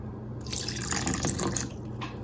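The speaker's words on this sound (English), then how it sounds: "and some water." Water splashes and trickles steadily into a container for a couple of seconds, a close, bright liquid pour with no talking.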